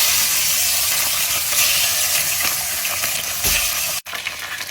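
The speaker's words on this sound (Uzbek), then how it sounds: "Endi qanotlarni birin-ketin solaman." Chicken wings fry in melted butter in a pot with a loud, dense, continuous sizzle and hiss, broken by a few crackling pops and a brief dropout near the end.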